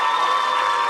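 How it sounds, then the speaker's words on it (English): A crowd claps and cheers loudly, a dense, steady wash of applause with whoops filling the whole moment. "I want to hear a bigger round of applause."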